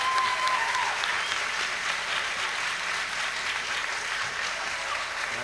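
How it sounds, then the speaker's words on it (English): An audience at the Chicopee Kielbasa Festival applauding contestants as they leave the stage, a steady dense wash of clapping that holds evenly throughout. "Please give them a warm round of applause as they leave the stage."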